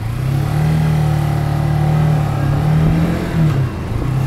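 A Lexmoto Michigan motorcycle pulls out of a junction onto the road, its mid-pitched engine droning steadily and close by, dipping briefly near the end before picking up again.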